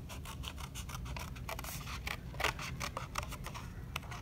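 Scissors cut around the outer edge of a drawing on cardboard for a collagraph plate, close and fairly quiet snipping and scratchy crunching in an irregular rhythm.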